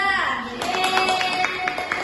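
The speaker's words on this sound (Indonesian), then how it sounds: "Beri tepuk tangan kepada kelompok 2" Children in a primary-school classroom clap together for a group of classmates, a steady patter of hands that starts a moment in and continues to the end, with some voices under it.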